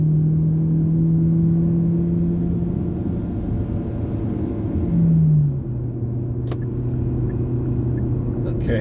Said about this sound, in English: so much cars on this highway. That's what scares me.